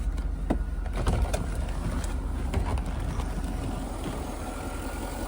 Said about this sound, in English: I don't think we need that engine running anymore